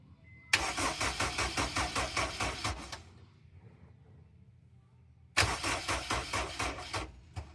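A car starter cranks with a charger hooked to the weak battery: a loud burst of rapid, rhythmic cranking for over two seconds, a pause with low hum, then a second cranking burst, with no engine catching.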